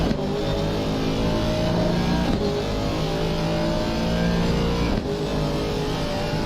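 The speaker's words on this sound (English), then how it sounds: "you can hear the V8 from the Aston Martin as he runs that really wide kill" An Aston Martin V8 GT3 race car roars at full throttle at the Nurburgring, a loud, continuous engine note with small shifts in pitch as it carries through a wide line.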